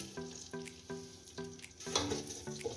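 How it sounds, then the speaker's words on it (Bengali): Semolina tossed into hot ghee in a home kitchen, giving a soft, steady frying sizzle with repeated light scraping taps of a spoon against the pan at a regular pace, close and moderately quiet. "এই ঘিটা গরম হয়েছে, এখন আমি এটার মধ্যে হাফ কাপ সুজি দেবো।"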